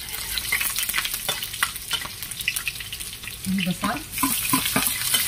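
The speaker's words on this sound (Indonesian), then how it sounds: "Minyaknya sudah panas, kita masukkan bawang putih, bawang merah ya" Garlic and shallots fry in hot oil in a pan for a stir-fried clam dish, with a steady loud sizzle and occasional stirring scrapes, a short spoken phrase partway through.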